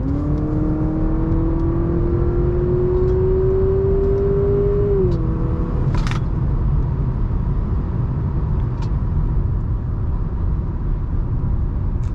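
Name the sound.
2023 Honda Accord Sport driving and turning around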